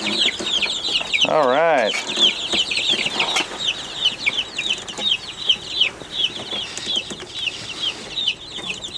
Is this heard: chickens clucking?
yes